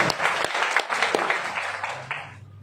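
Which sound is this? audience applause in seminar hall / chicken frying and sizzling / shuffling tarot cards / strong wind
audience applause in seminar hall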